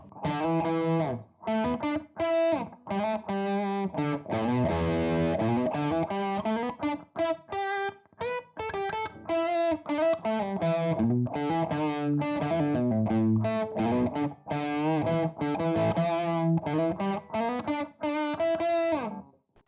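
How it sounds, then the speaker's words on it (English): Distorted electric guitar plays a fluid lead line with sustained bends and quick runs through a Torpedo CAB/Live, washed in reverb, loud and continuous with no talking. "Let's add a bit of reverb in there as well."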